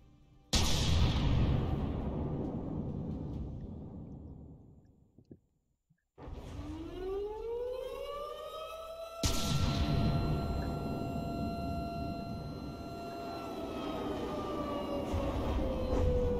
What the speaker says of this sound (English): I think that's a munitions warner sound.